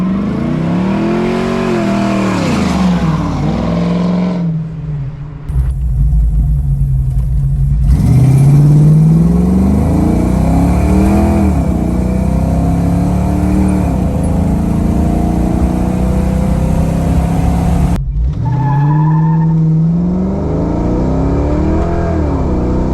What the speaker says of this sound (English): Spins the tires now from a dead stop, which is an improvement.